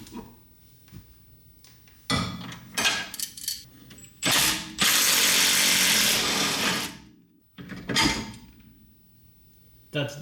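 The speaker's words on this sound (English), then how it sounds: "The next thing to do is to remove this bolt." Rusty 14mm hex bolt on the lower rear shock mount of a Honda being worked loose, with bursts of tool noise and metallic creaking, then a long loud grinding stretch before quieter clicks.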